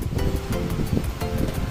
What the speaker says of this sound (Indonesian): Inilah dia penampakan air terjun Takapala.